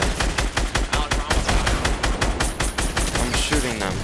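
Rapid automatic gunfire in the video game Fortnite, loud close bursts of repeated shots in a fast, steady rhythm with a few brief gaps, continuing throughout.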